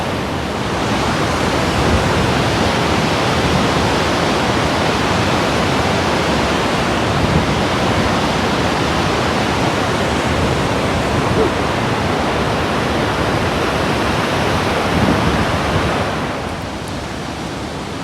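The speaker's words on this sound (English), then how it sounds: "Yeah, see, there's the waterfalls right there." Montmorency Falls in Quebec roars as one steady, loud, broadband wall of falling water, unbroken for the whole stretch and easing slightly in the final seconds, with no voices over it.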